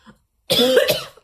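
A single harsh cough up close, one short raspy burst with a throaty edge, after a brief faint breath.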